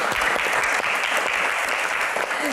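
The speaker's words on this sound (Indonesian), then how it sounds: "tepuk tangan untuk Bang Rano." Crowd applause fills a quiz-show stage as an audience claps for a guest in a gubernatorial candidates' Q&A event, a dense steady wash of many hands, loud and close throughout.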